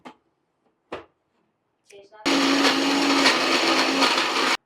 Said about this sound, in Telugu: నేను తొందరగా దీన్ని మిక్సీ పట్టేస్తాను